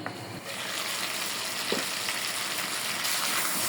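Pre-boiled, spiced beef tripe fries loudly in a pan, a dense, steady sizzle with occasional stirring scrapes, close and alone without speech.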